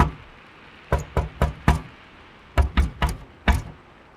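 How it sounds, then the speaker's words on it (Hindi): Sharp knocking on a door in two groups, four raps then four more, close and distinct with brief pauses between. "आरव को लगता है दरवाजे पर कोई खटखटा रहा है।"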